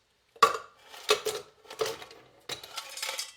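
Hard clinks and clatters of ice cubes dropping into a glass, four bright bursts in quick succession, close and fairly loud.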